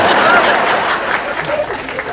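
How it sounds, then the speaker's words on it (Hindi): Audience applause at a book launch event in Surat, a dense steady wash of clapping from a crowd filling the short stretch, with voices mixed faintly underneath. "आज आपने ताली मार दी"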